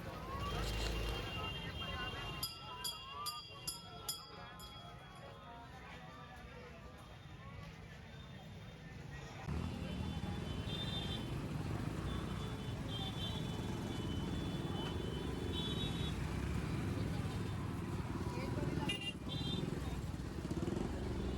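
A Hero Xpulse 200 4V motorcycle rides through crowded city traffic, its engine hum mixed with surrounding vehicles and a cluster of short horn beeps early on, with a voice talking over it.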